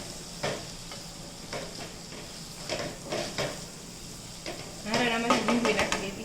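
Batata poha being stirred and mixed in a pan, a spoon scraping in short repeated strokes with a faint sizzle, building to a busier stretch of stirring near the end.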